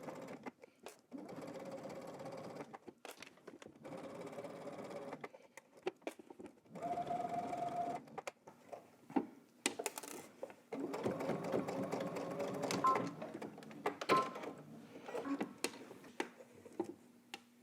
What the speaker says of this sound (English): we're gonna head to the sewing machine and making sure that everything is out of the way and we're just working with our right fly, we're going to stitch in the ditch